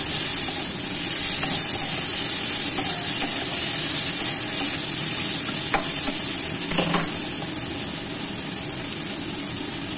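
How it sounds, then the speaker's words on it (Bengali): Crab and carrot curry frying in a pan: a loud steady sizzle with stirring, then a splashing rush as water goes in, after which the frying turns softer and more subdued. "এবার জল দিয়ে দেবো"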